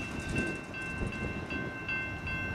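A CSX freight train rumbles past nearby in a steady, continuous roar, with faint rhythmic wheel clatter and high metallic squeal.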